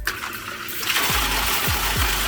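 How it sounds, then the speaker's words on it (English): A submersible pool drainage pump switches on and throws water upward like a fountain, a sudden loud steady gush and splash close by, with low thumps underneath. "Okay, so I plug this in, and we'll see how far up it shoots"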